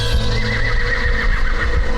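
A horse whinnies loudly and close by, a wavering high neigh, with faint hoof clops underneath.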